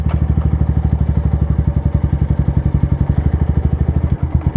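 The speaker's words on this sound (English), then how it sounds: "So now the bike started." A motorcycle engine, just started, idles with a fast, even thumping pulse, close and loud, running steadily alone with a slight stumble near the end.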